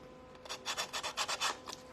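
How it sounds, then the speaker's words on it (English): A handheld sanding sponge rubs the rough edges of zip ties and charms in quick, close, rasping strokes, about eight bursts in a row, with no voices. "And I use a sanding sponge"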